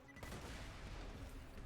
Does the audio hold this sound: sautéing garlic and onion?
no